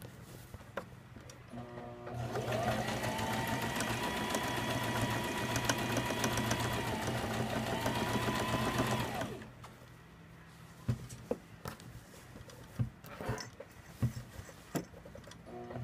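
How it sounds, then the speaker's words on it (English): A sewing machine runs steadily for several seconds with a mechanical hum and rapid stitching, then stops, leaving quieter clicks and handling noises. "Now we're going to take it to the sewing machine and"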